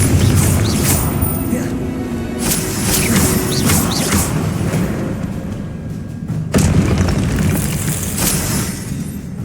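Booming magical blasts from a Confringo spell in Hogwarts Legacy erupt repeatedly amid loud game effects and crashing bursts, with sharp impacts near the middle and a spoken incantation mixed in.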